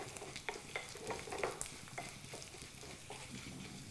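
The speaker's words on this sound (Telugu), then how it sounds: "అలాగే 10 మిరియాలు వేసి లైట్ బ్రౌన్ కలర్ వచ్చే వరకు దీన్ని వేయించాలి" Peppercorns and spices dry-roast in a pan, a low crackle with small scraping stirs and faint ticking pops, quiet and close, with no voices.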